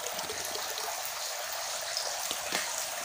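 Water trickling and splashing into a bucket, a soft steady pouring sound heard up close and fairly quiet for a few seconds.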